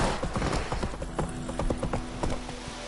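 Roach, the horse in The Witcher 3 game, gallops with quick repeated hoof clip-clops in a steady rhythm, close and moderately loud over faint game ambience.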